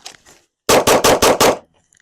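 Pistol shots in a timed competition shooting drill crack out in a rapid string of five loud, evenly spaced reports. A couple of quieter clicks come before the string and a faint ring follows it.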